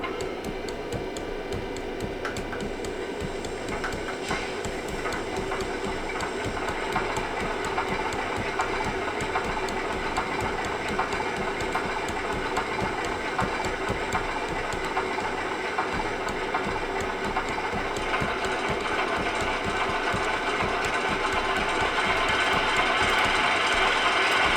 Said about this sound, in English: a long start, which simulates putting the fuel pump on and starting in the normal way